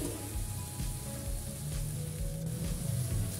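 Winged beans are stirred with water in a hot pan for a simple home-style stir-fry, giving a steady soft sizzle and bubbling with faint scraping, with no voices.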